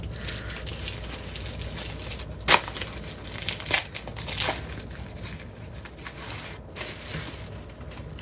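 Plastic package of resin craft flowers being unwrapped close by, continuous soft crinkling and rustling with a few sharper crackles and snaps, fairly quiet, no talking.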